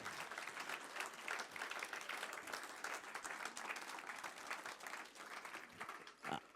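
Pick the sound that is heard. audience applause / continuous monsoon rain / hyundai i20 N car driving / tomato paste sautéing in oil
audience applause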